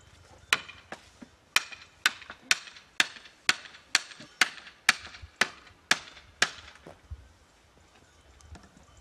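Hammer striking a traditional Pasiego hand tool as it is fitted to its handle and pinned, about a dozen sharp, evenly spaced metallic-wooden blows close by, then a quiet pause.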